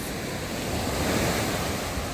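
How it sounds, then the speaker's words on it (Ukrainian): Rough sea waves break steadily along an Odesa beach with white foam, a dense continuous roar of surf mixed with wind buffeting the microphone, close and loud. "А морячка хвилюється. Хвилювання набирає обертів."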